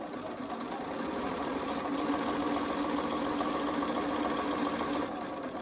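A sewing machine stitches steadily over a thick quilt seam, a continuous close mechanical whir with rapid needle rhythm that holds evenly for several seconds before easing off at the end.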